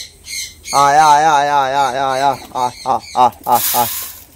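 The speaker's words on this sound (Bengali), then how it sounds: "আর ওদিকে পাখিগুলো সরগোল করছে" Birds squawking loudly and close by where pigeons are being fed, with one long, wavering harsh call followed by a run of short, rapid squawks.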